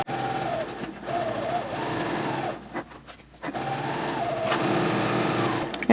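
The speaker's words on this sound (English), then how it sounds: "go ahead and baste all those layers together" A sewing machine bastes several layers of pouch fabric near the edge with a steady, close mechanical whir, pausing briefly mid-run before stitching on.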